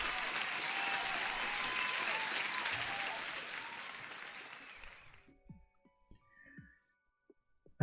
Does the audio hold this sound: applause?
yes